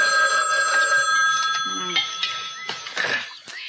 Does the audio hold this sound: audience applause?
no